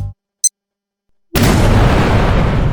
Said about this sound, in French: Il y avait une vraie bombe dans la piñata et elle a détruit tout le mur